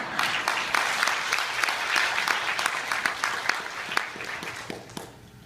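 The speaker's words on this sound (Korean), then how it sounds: "박수 치달라 좀 크게 치세요." Audience at a Jeju political campaign speech applauding on request, dense sustained clapping from many hands, loud and steady throughout, tapering slightly near the end.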